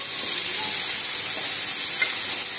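Chicken fries in a pan with garlic and ginger, giving a continuous close sizzling hiss that stays steady and bright throughout, with no voices.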